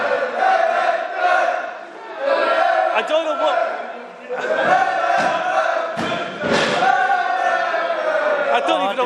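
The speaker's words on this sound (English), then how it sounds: "We actually can't speak over the sounds of boo, boo, boo." A wrestling show crowd booing in sustained, loud waves that swell and dip, with a commentator speaking over the noise.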